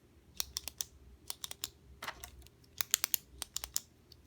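A metal-barrel Sharpie S-Gel pen clicked repeatedly at close range, sharp crisp clicks in irregular bursts and pairs against a quiet background.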